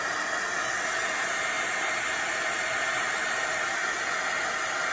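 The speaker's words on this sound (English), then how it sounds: "now I'm ready to bring in my embossing gun" A heat embossing gun blows a steady, loud, hissing roar without pause while melting embossing powder over tin foil, close up and unchanging for the whole stretch, with no talking.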